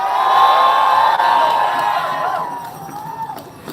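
A large, cold outdoor protest crowd in downtown Minneapolis, students walking out of school against ICE, cheers and whoops loudly with many overlapping voices that fade slightly toward the end.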